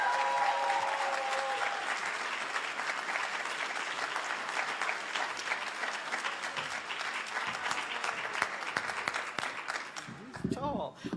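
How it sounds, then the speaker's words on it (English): An audience at an honors program induction ceremony applauds two singers after their performance, producing a steady, dense clapping that lasts several seconds before a voice speaks at the end. "let's give them one more round of applause."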